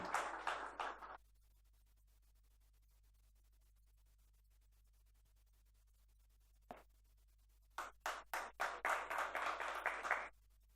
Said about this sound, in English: Round of applause for the panelists, please.